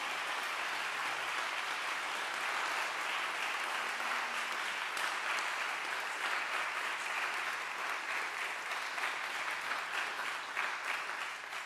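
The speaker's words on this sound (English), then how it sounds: "So one more round of applause," A church congregation applauds steadily, a soft, even wash of many hands clapping heard from a distance, sustained without pause for over ten seconds.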